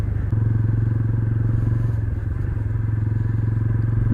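A Bajaj Pulsar N160 motorcycle is ridden on a road, its engine a loud, steady, close drone with a constant low throb and light rattle, and no talk.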